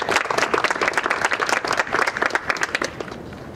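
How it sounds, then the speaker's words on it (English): A crowd at a gathering for a boy choked by police gives Raisha a round of applause, with dense, loud, steady clapping throughout that eases slightly near the end. "We're gonna give Raisha a round of applause."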